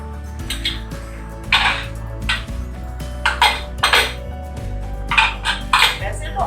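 Mutton karahi frying in a pot and being stirred, with repeated metallic scrapes and clinks of a spoon against the pan over a steady sizzle, close and fairly loud, no talking.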